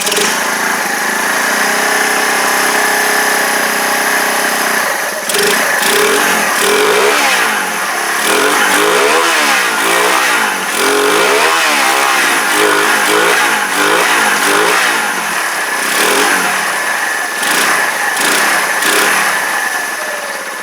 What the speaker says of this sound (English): Sounds a cracking engine actually. It's even idling.